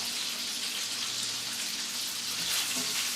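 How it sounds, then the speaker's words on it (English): Sausage pieces sizzling and frying in a pan, a steady continuous hiss with faint crackle throughout and no talk. "we're going to let those saute for a few minutes"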